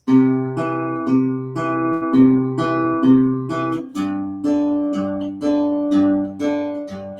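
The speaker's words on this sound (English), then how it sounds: "just the thumb would sound like this" A guitar bass line plucked with the thumb: low notes repeating in a steady, even pulse, each note ringing into the next, with no other instruments.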